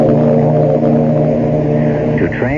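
Ship sound effect from a CBS Radio Mystery Theater drama: a steady, loud, low droning hum with sustained tonal bands like a ship's horn or engine, continuous throughout with a brief shift near the end, no voices.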